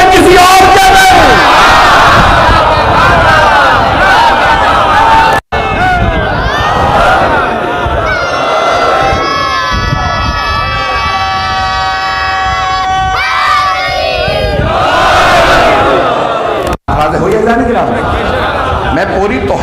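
Loud crowd at a Muharram majlis in Malir, Karachi, shouting religious slogans in unison, bursts of massed voices filling the whole stretch with brief gaps, sustained chant-like tones in the middle.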